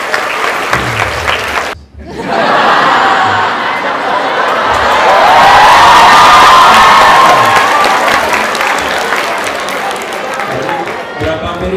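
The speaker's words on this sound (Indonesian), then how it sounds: "coba Lukman, beri tepuk tangan Pak Lukman" A large hall crowd at a student discussion event applauds and cheers for a lecturer, a sustained loud wave of clapping with shouts and whistles that swells and then eases, following a brief spoken lead-in.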